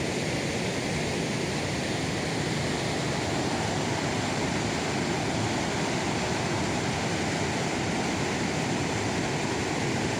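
The Urubamba river in the Peruvian jungle rushing with great force, a dense, loud, unbroken roar of whitewater close by with no voices.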